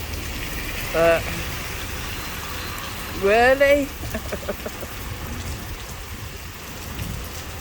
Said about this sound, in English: The bit of rain this afternoon was nice, but this isn't funny.